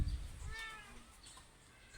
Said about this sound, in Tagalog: Meron ho pumunta din yung lalaking pusa.